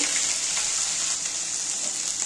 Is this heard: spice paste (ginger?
yes